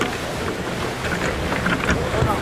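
The Tahiti team's racing sailboat is worked hard under sail, with rushing wind, water wash and clattering deck activity, and faint crew voices mixed underneath.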